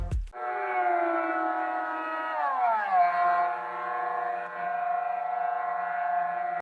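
A quadcopter drone's steady electronic drone with a low-battery audio effect, stacked tonal layers dipping lower partway through like a sagging, low-power whine, sustained and fairly loud with no talking.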